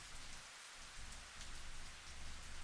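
Steady rain falls in the video game Higurashi: Kotohogushi, a dense, even patter of drops holding at a constant level throughout, with a faint low rumble underneath and no voices.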